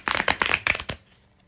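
A deck of oracle cards is shuffled by hand in several quick riffled bursts close by, then the rustling stops and goes quiet.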